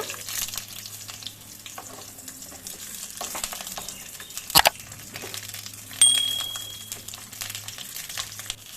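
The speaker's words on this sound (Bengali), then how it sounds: "এবার আমি পটলগুলো ভেজে নেব।" Halved pointed gourds (potol) fry in hot oil in a kadai, giving a soft steady sizzle with occasional stirring scrapes and a sharp clink midway, no talking.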